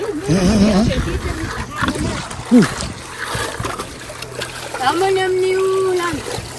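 Muddy water splashes and sloshes steadily as gold is washed at an illegal gold mining site in Madagascar, while people talk nearby, with a brief louder splash partway through.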